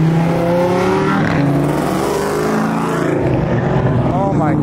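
A Lamborghini Huracán STO sports car passes at a street gathering, its loud engine roar steady throughout, with rising and falling revs, while voices talk over it.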